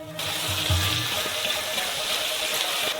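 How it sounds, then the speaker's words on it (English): Water gushes steadily from a tap into a wok, a continuous bright hiss lasting a few seconds with faint clinks underneath. "Fill this all up with water."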